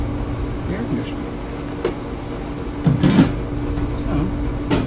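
A 1-ton ductless mini split air conditioner runs with a steady low hum and airy whoosh, with a few soft clicks and bumps over the drone.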